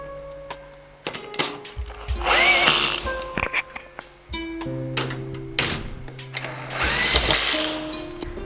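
A power drill drives steel screws into overlapping lightweight steel roof panels on a tiny house, several loud whirring bursts with pauses and clicks between them, close up and with no talk.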